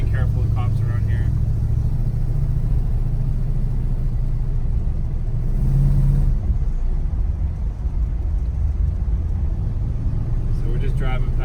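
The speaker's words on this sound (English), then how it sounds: "So we're just driving past some of the neighborhoods." A 1974 Plymouth 360 Cuda drives through a neighborhood, its engine a steady, close, loud rumble that swells briefly midway, with occasional voices in the cabin.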